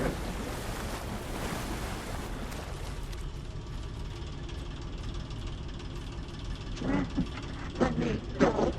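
Dark water waves in the video game Alan Wake 2 wash and roll in a steady, dense rush with wind-like noise, swelling into a few louder surges near the end.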